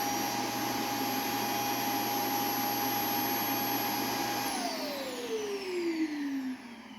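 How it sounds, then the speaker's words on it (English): An iRobot Roomba s9+ robot vacuum runs with a steady, close motor whine, then powers down, its pitch sliding lower as it spins to a stop. "When the iRobot is finished vacuuming"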